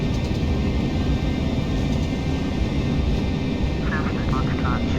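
Airliner engine roar building during a takeoff roll in Microsoft Flight Simulator X, a steady loud broadband rumble that fills the whole stretch, with a faint short electronic chirp near the end.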